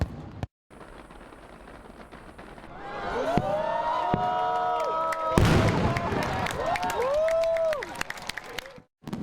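Fireworks bursting at the Nagaoka Festival Grand Fireworks Show, an annual August display in Japan, with booms and whistling rising shells over a large crowd cheering and applauding; a sharp loud blast in the middle.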